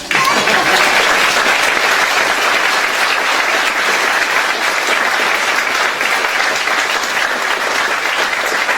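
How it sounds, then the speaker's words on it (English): An audience at a 2015 education torch ceremony applauds new teachers in a steady, dense wash of clapping, loud and unbroken for the whole stretch. "fade out into a general smattering of applause for everybody, please"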